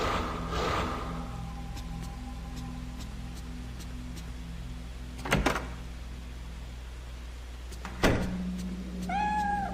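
Cat meowing in the video game Fatal Frame 3, a short rising meow near the end of an ambient game scene marked by low drones and a couple of sharp thuds, with no talk.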